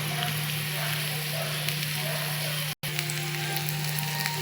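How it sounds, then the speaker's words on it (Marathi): Cumin and mustard seeds temper in a little oil in the small cups of an appe pan, making a steady, close crackling sizzle that drops out for an instant partway through. "आप्प्याच्या तव्यामध्ये त्या छोट्या गोलमध्ये थोडंसं तेल टाकायचे आणि जिऱ्याची मोहरी टाकायची."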